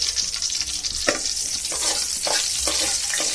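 Mutton cutlet mixture with cinnamon frying in a pan, a steady close sizzle broken by several scraping stirs at irregular intervals, with no talking.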